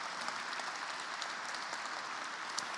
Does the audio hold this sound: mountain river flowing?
no